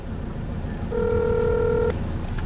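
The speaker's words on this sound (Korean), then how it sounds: "며칠 전 재인에게 전화를 걸었습니다." A telephone dialing tone sounds as a single steady beep of about one second. It rises plainly above a noisy room background.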